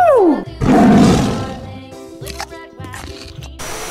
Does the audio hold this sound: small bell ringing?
no